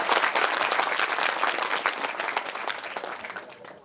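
Applause from the audience at a Hindi kavi sammelan poetry gathering, a dense burst of many hands clapping together that starts loud and slowly fades over a few seconds, with no talking.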